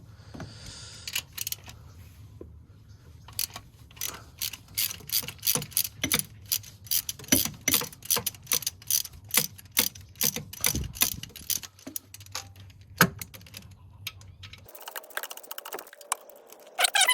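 A ratchet loosens 13 mm bolts on the transmission mount of a 2008-2012 Ford Escape with a 3.0L V6. Close, crisp bursts of rapid clicking repeat in short runs, then shift to a different mechanical noise at the end.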